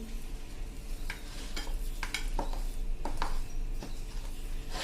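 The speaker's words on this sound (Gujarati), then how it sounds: "આ રીતે આપણે ભાતને થોડાક મેશ કરી લેવાના છે" Soft scraping and pressing of a slotted metal spoon mashing cooked rice in a pan, in short irregular strokes with light clinks, steady and close, no voices.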